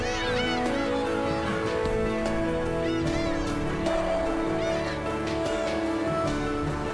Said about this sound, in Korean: 이 땅에 둥지를 틀고 치열하게 살아가는 괭이갈매기와 또 다른 새들.